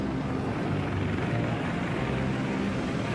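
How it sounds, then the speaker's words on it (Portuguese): Helicopters in a video game, a steady low rotor drone rumbling continuously without pause. "Helicópteros como caraças."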